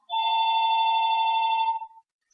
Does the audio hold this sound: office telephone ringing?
yes